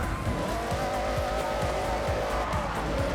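A race car in Forza Horizon 6 skids with continuous tire squeal over a loud, steady engine roar, sustained throughout with repeated short engine surges and no voices.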